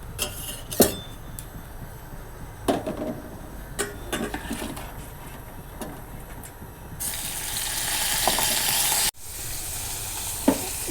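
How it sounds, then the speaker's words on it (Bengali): Close, crackling sizzle of shrimp frying in oil in a pan with occasional clinks of stirring, then a louder hissing surge near the end; no talking. "চিংড়ি মাছ ভাজা হয়ে গেছে"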